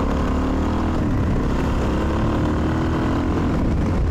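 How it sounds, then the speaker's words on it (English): A Suzuki DRZ 400 motorcycle engine running rich with a worn muffler, a loud, close, steady chugging idle with rough irregular pops. "backfiring"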